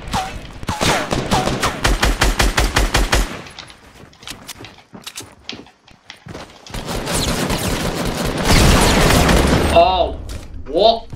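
Rapid bursts of gunfire in the Fortnite Battle Royale video game, including a fast volley of repeated shots early on and more firing mixed with game effects later, loud and close, with no one speaking.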